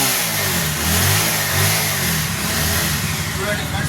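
A motorbike engine revs hard while in gear with a worn, slipping clutch, producing a loud, steady droning growl that swells and eases slightly without pulling away.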